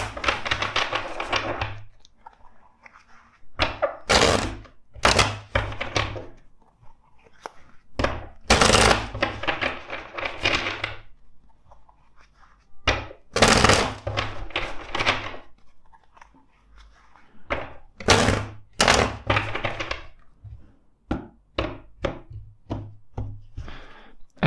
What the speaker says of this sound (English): let's shuffle the deck four more times